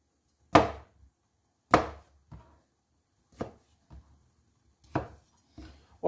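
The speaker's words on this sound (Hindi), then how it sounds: "ये कुछ अदर टमाटर है, इसके हम सिर्फ दो दो पीस करेंगे।" A knife chops tomatoes into large pieces on a cutting board, six sharp, separate thuds with short pauses between them, close and clear with no talk.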